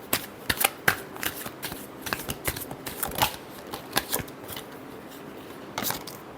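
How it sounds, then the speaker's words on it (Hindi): Tarot cards being shuffled by hand in a final shuffle, a run of crisp riffling flicks and papery snaps at close range, with irregular bursts and brief pauses and no talking. "last shuffle"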